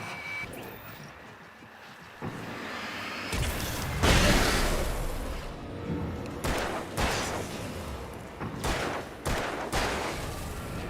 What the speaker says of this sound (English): Fireworks, just like at the Anderson place.